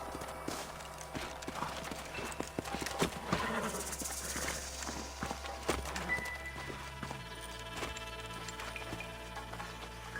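Horses clip-clop at a steady gallop in the Red Dead Redemption video game, hoofbeats close and continuous over a busy outdoor soundscape with an occasional whinny and faint voices.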